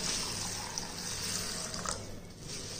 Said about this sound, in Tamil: தண்ணி ஊற்றி நல்லா கழுவிடுவோம்